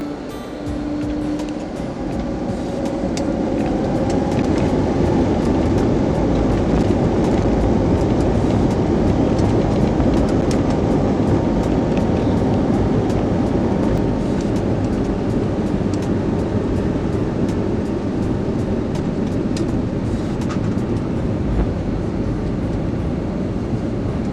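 Frontier Airlines airliner on its takeoff roll, heard from inside the cabin as a loud, steady, broad engine roar with rumble that rises and holds for the whole stretch.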